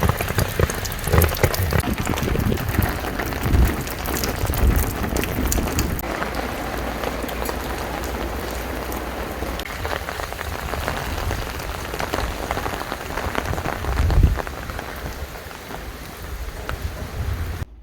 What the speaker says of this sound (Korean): 밖에 지금 비가 막 축축이 보약비가 오고 있습니다.